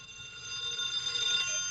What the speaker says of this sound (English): Answer the phone, Jerry